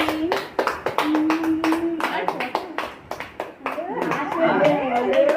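Family members clap at a grandparents' anniversary cake cutting at home, sharp irregular handclaps close by, mixed with excited chatter and voices throughout.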